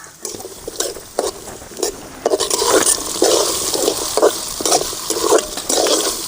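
Chopped shallots and green chillies fry in oil for a bitter gourd kuzhambu, a loud continuous sizzle with repeated stirring scrapes in an uneven rhythm, and no talking.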